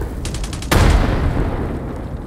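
A frag grenade explodes in the shooter game Hired Ops, one sudden loud blast that rumbles and slowly fades, preceded by a few faint rapid taps.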